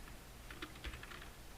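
Light keystrokes come in quick, soft bursts as code is typed on a computer keyboard, close and quiet against a faint background hiss.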